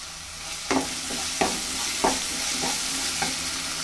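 A masala of ginger, garlic, onion and tomato with salt, turmeric and chili frying in a pan, a constant sizzle under about five clinking scrapes of a spoon stirring at an unhurried pace, close and without speech.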